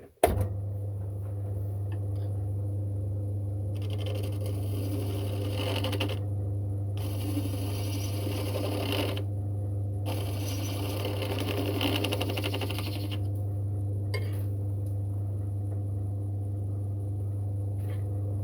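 Wood lathe spinning with a steady low motor hum while a hand beading and parting tool cuts into the workpiece, with bursts of scraping cutting noise coming and going throughout.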